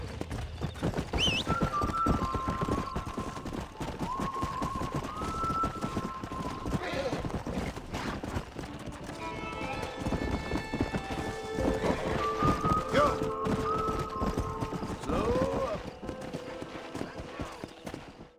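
Horses clip-clopping in Red Dead Redemption: steady hoof beats on the ground with occasional neighs, mixed with game voices and background sounds.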